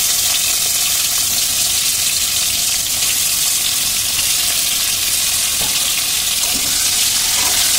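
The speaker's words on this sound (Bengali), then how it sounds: "এবার আলুটা আমি ভালোভাবে এইভাবে নেড়ে চেড়ে ভেজে নেব।" Potatoes frying in hot oil with whole garam masala while being stirred, a loud continuous sizzle with occasional scraping clicks of the utensil, close and steady.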